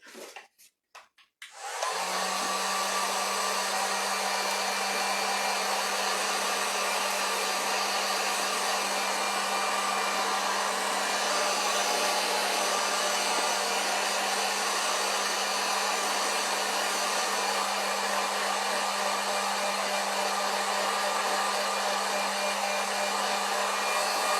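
A hair dryer switches on after a few brief handling clicks and blows steadily at close range over a craft piece, a loud continuous whooshing whine with a constant low hum throughout.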